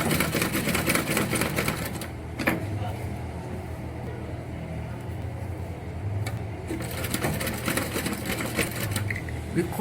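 A sewing machine top-stitches the lining along a slit neckline, humming steadily and close for the whole stretch with a few brief clicks, while a voice talks faintly underneath.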